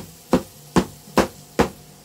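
Four sharp, evenly spaced metal hammer blows from an old ball peen hammer flattening pieces on a hard surface, close and loud with brief ringing decay, no talk.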